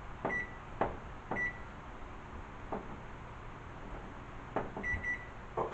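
Short electronic beeps from a microwave oven keypad as the cook time is entered, several sharp tones spaced irregularly over a quiet room hum.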